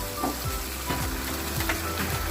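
Chicken kofta frying in a pan on low heat, with a steady soft sizzle and a few scraping, clinking pan movements on top.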